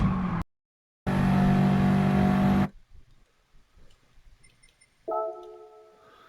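A racing car in Gran Turismo 7 drones loudly at high revs for a couple of seconds, then cuts off abruptly to near silence before a fainter engine note rises again at the end.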